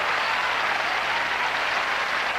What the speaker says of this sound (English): Crowd trying to get him on.